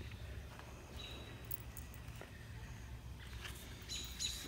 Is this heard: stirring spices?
no